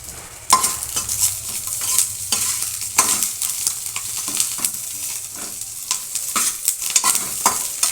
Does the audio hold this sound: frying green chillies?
yes